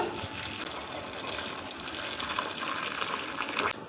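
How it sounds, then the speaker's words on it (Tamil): Boiling water pours in a steady gushing stream into a bowl of soya chunks, close and continuous, with no voices. "இதில் நல்லா கொதிக்கிற தண்ணியை நம்ம சேர்த்துக்கலாம்"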